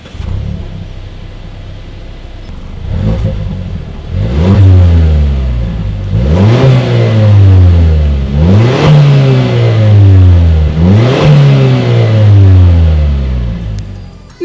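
Dual exhaust of a 2018 Mazda CX-9 SUV revving repeatedly, with four or five rising-and-falling engine swells over a steady idle, loud and close, no talking.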